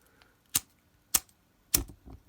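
A Zippo lighter, its wheel flicked after two minutes soaked in water, gives three sharp, separate clicks about half a second apart, close and distinct against near silence.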